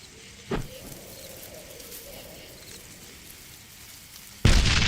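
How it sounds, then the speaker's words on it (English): Stick grenades explode in the PC first-person shooter Darkest of Days: one short thump early on, then a louder, sharper blast near the end over a steady background of rumbling ambience. "These are standard issue stick grenades. Just aim and let 'em fly."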